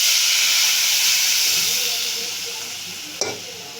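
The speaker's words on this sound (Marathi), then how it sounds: "मिक्स झालं की आपण त्यात वाटलेली दही टाकूया" Ground curd going into a hot pot of oil with asafoetida and turmeric for Khandeshi kadhi, giving a loud, steady steam-and-sizzle hiss that slowly fades, with one brief clink near the end.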